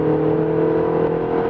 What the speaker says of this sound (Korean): 엑셀 오프, 시프트 다운 하면서 코너를 돌아 나갑니다